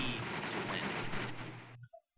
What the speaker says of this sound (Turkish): Fena silah sesi geldiği için kapatmak zorunda kaldım